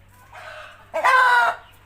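Bantam chickens cluck: a short softer call, then a louder, brighter cackle lasting about half a second, close by and with no talk over it.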